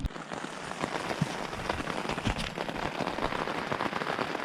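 Cold, wind-driven rain patters hard on nearby surfaces in a dense, uneven rush, with sharper drop hits and gusty swells throughout and no voices.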